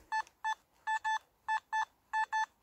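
A Simplex metal detector in Park 2 mode gives target tones as short electronic beeps, mostly in quick pairs with brief gaps, clear and alone.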